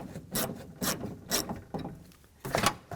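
A 10mm socket wrench loosens bolts on the rear door panel of a 2004-2008 Nissan Maxima, making a few rhythmic ratcheting rasps in separate bursts, close and clear with no speech.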